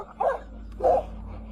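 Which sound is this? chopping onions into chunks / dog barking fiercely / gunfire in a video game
dog barking fiercely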